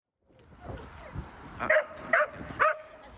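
Trained leak-detection dogs that sniff out chlorine in water: a few short yips and barks stand out over a low background rumble.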